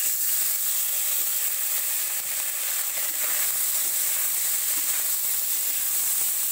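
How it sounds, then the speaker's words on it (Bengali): River mola fish fry in hot oil in a wok, giving a steady, dense sizzle and hiss with no voices throughout. "তেলটা গরম হয়ে গেছে, এর মধ্যে আমি মাছগুলো ছেড়ে দিচ্ছি"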